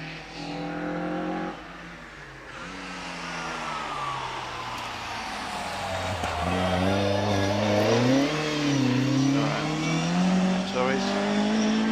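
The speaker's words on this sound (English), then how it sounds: "Andrew goes away then in the 2-litre 1978 Ford Escort" A 2-litre 1978 Ford Escort Mark II rally car pulls away hard at a stage rally, its engine revving loud and close and climbing through the gears in rising sweeps, with a brief lift between pulls.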